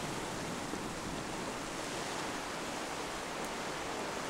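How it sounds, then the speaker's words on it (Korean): Ocean waves breaking on rocks beside a coastal walking path around Dongbaek Island near Haeundae Beach in Busan, a continuous broad roar of surf with no distinct breaks, steady and unaccompanied by voices. "바위에 부서지는 파도소리를 들으며"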